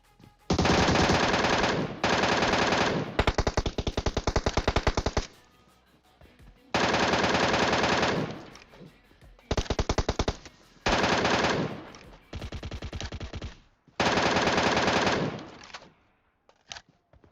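M762 assault rifle fired in PUBG Mobile, loud sustained full-auto bursts of several seconds each, separated by short pauses.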